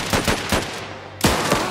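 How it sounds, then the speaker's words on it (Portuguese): Several guns fire together in the video game Last Train Home as a whole squad shoots, a dense volley of sharp overlapping shots, a brief pause, then another burst. "Todo mundo atira."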